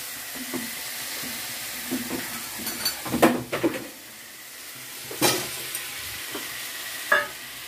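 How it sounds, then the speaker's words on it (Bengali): Chitol fish pieces and potato fry in a pan, a faint sizzle broken by scattered scraping stirs and clinks of a utensil against the metal. "এইবার আমি মাছ আর আলুটা এর মধ্যে দিয়ে ভাজা ভাজা করব"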